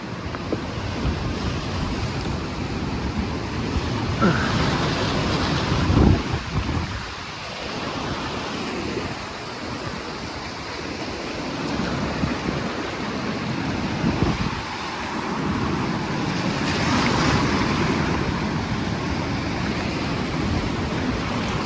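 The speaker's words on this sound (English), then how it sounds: "those waves are 5-6 feet tall" Large river rapids crash and roar nearby along the White Water Walk, a loud, unbroken rushing of water with surges and wind noise on the microphone, with no talking.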